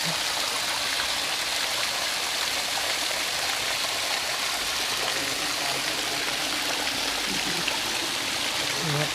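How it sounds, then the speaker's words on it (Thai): Natural spring water welling up from underground in a rural Thai spring pool, flowing continuously as a steady, close, full-bodied rush and trickle that stays level throughout with no breaks. "น้ำไหลออกมาเรื่อยครับ"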